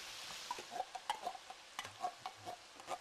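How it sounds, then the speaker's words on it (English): A shepherd's pie filling of meat, thyme, Worcestershire sauce and condensed tomato soup gets stirred in a pan, with soft irregular scrapes and ticks of the spoon over a faint background sizzle. "we'll mix this all well together and bring it up to a boil"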